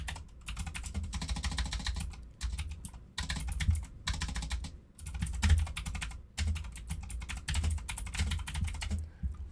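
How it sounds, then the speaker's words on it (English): Loud, rapid clatter of a computer keyboard close to a streaming microphone, with bursts of continuous typing broken by short pauses. "I know I'm typing loud, sorry."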